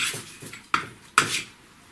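A spatula works through thick paint in short scraping strokes, with two sharp clicking taps standing out between the softer smears, close and moderately loud with no talk.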